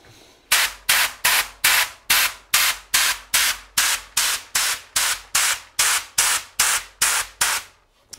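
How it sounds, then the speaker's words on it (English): Repeated bursts of an HVLP spray gun hissing paint, about fifteen short even sprays in steady rhythm, loud and close, with brief pauses between. "try to spray with your spray gun"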